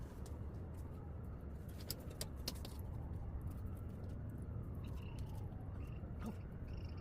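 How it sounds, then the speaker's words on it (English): A bird coos outdoors, faint and partly buried under steady broadband background noise, with a few soft calls over several seconds. "There's a bird."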